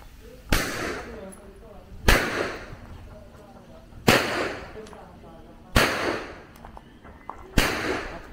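Five sharp handgun shots ring out at shooting training, evenly spaced about two seconds apart, each with a short echoing tail, while a voice speaks faintly between them.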